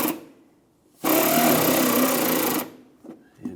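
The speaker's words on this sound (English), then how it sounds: "I'm just going to go ahead and snug these two up" A power tool, likely an impact or ratchet, runs in one steady burst of about a second and a half, snugging the bolts of an inner fender liner on a 1996-2002 Toyota 4Runner, with a short quiet gap and faint clicks afterward.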